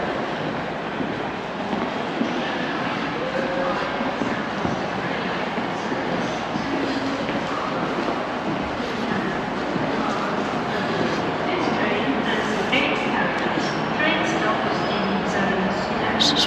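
Inside a train station in Portsmouth, UK, a busy, echoing wash of crowd murmur, footsteps and distant mechanical rumble holds steady throughout, with no distinct voice standing out.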